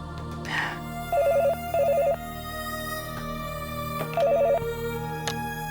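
Repeated short electronic ringback tones sound on a telephone line while a call is placed, three bursts spaced apart over a faint steady hum, with no talking.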